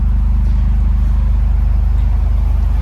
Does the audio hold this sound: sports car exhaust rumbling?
yes